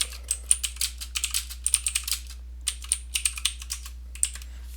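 Rapid bursts of typing on a computer keyboard, crisp, close keystrokes in uneven runs separated by short pauses, heard alone with no talking.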